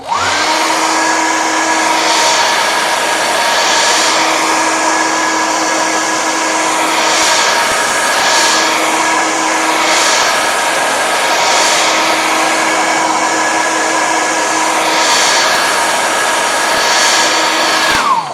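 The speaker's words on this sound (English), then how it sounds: "Just as sorry about the hairdryer." A hair dryer blows loudly and continuously, a steady roaring whine with slight wavering in pitch and airflow, no voices.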